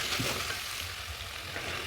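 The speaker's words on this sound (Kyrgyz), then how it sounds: "томатты жакшылап кууруйбуз." Tomato frying in a pan as part of a home recipe, giving a steady, close broadband sizzle with soft crackle throughout and no talking.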